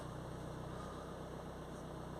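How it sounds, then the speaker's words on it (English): A steady low idle of a Jaguar F-Pace 2.0 diesel engine with a full exhaust particulate filter rumbles on without pause, even and close, with a faint vibrating hum and no talking. "So we will start the vehicle up"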